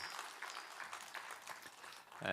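A congregation applauding during a Sunday morning church service, faint, distant clapping that fades after about two seconds.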